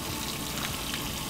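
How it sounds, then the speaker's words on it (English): A Truma water pump in a camper van drives water out of the tap in a dense, continuous sputtering gush, loud and close throughout the short burst. "Sometimes, you know, kind of sputters like that because of the pump, because it's direct, you know, from the pump."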